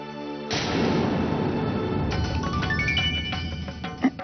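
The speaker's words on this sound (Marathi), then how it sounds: "काय सुहासरावांचा फोन आहे का?" A mobile phone rings indoors with a short melodic tone sequence climbing in steps over a steady background hiss. It sounds alone, without talk.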